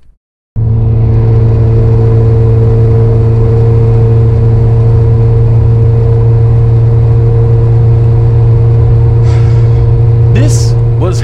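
Loud, steady droning exhaust from a Lotus Elise replica car cruising at constant speed, a deep sustained hum that carries unbroken through the whole stretch with only brief high squeaks near the end.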